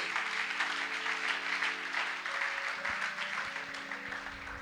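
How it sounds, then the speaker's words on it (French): A crowd applauds and cheers at a French-speaking church gathering, with steady, dense clapping that holds at an even level throughout, heard from within the congregation alongside a low sustained tone. "On l'acclame, on l'acclame, on l'acclame."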